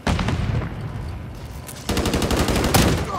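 Video game gunfire in rapid bursts, dense automatic shots crackling loudly near the listener, easing briefly mid-clip before another heavier volley starts, with no talking.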